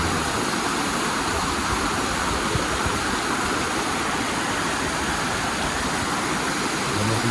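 Water gushing out of the rocks from a broken main near Galloway, Petersfield, Jamaica: a steady, loud, unbroken rush of broadband noise with no pauses.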